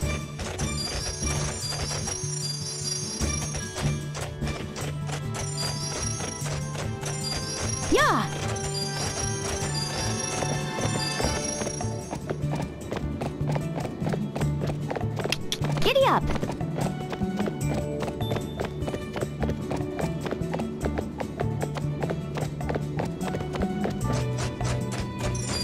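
Horse hooves clip-clopping at a steady gallop in the video game Barbie Horse Adventures: Wild Horse Rescue, a continuous rhythmic beat under game music with a brief crash and whinny-like sounds, voices talking over it.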